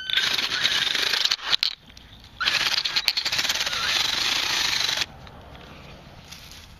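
A cordless drill with a 3/4 bit widens the opening of a broken PVC sprinkler fitting, making loud grinding bursts that stop and restart, with a quieter pause between runs and faint background noise after.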